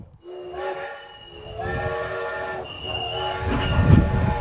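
A Thomas toy train runs with a continuous rumble, overlaid by repeated tonal horn and whistle sounds, fairly loud and close throughout, with no speech.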